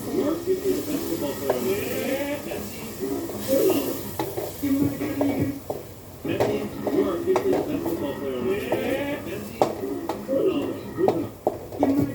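Chicken fries in a pan in a home kitchen, hissing and sizzling steadily while a utensil stirs and scrapes the pan now and then, close by.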